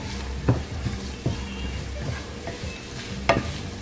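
Upma being stirred in a pan over medium-high heat with cumin, mustard seeds and chili, a spoon scraping in a few distinct knocks over a steady low sizzle, close and alone without talk.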